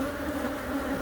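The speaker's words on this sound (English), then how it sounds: "Did you say there's a few bees?" Bees buzzing during a bee removal from a hive full of queen cells, a dense steady droning hum, close and continuous with no voices.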